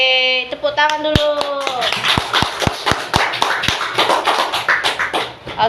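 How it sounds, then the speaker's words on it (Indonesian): Elementary schoolchildren in a classroom break from singing into hand clapping, a run of sharp, fairly regular claps that blur into scattered applause, with children's voices mixed in. "tepuk tangan dulu"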